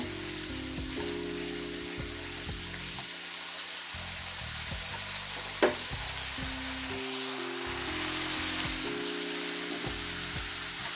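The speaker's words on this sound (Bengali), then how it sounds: "ভালোভাবে নাড়াচাড়া দিয়ে মশলাগুলো আমি কষিয়ে নেব।" Spices for egg korma are stirred and fried in a pan, giving a steady, fairly loud sizzling hiss with one sharp clink partway through and no talking.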